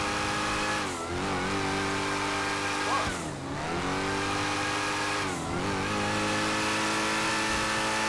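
A Jeep Trackhawk in GTA 5 accelerates hard, its engine roaring loud and continuous with three brief dips in pitch like gear shifts before climbing again.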